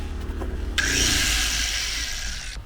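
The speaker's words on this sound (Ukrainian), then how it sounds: "зараз хочу спробувати, чи від генератора буде працювати маленька болгарка" A small angle grinder powered by an economical Dnipro-M petrol generator kicks in partway through with a loud, sustained high-pitched whine that rides over the generator's steady low engine drone, which runs throughout.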